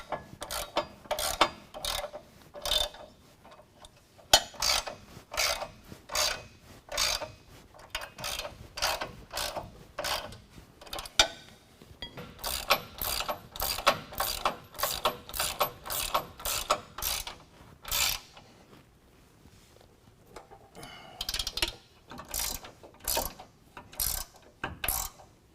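A ratchet snugs 24mm and 18mm bolts on a Steelcraft Elevation aluminum front bumper fitted to a 2020 Ram 2500: repeated rapid bursts of sharp metallic clicking, close and fairly loud, with short pauses between strokes and no talk.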